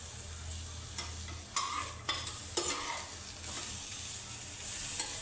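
Roasted brinjal pieces are stirred in a frying pan, giving a steady close sizzle broken by a few sharp scrapes and clinks of the spatula, with no talking.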